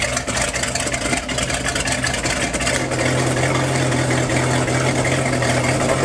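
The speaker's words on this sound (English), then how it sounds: "that's with the exhaust system closed" A loud engine fitted with a Corsa Captain's Call side exhaust idles steadily nearby with the exhaust valves closed, a low, even rumble, a rougher mechanical patter in the first half before settling into a smooth drone.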